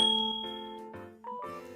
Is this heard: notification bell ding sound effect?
yes